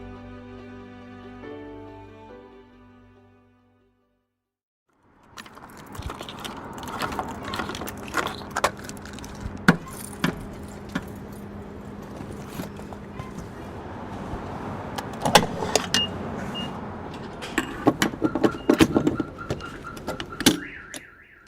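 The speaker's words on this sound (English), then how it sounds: "as you can hear, I'm topping off the gas tank in my car." Mechanical clicking and whirring from a gas station fuel pump topping off a car's tank, with intermittent sharp clacks and a steady hum, after a brief stretch of music that fades to silence.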